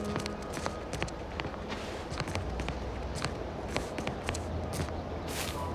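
Footsteps crossing alien planet terrain in The Outer Worlds 2, a steady run of crunchy, scuffing steps close up over a constant game ambience, with sharper transient hits scattered throughout.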